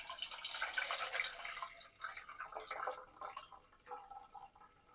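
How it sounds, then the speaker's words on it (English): Water is poured into a candle mold, a bright splashing stream that starts strong then thins into lighter trickles and drips, close and moderately loud with no talking. "what I'm going to do is just pour the water in here first."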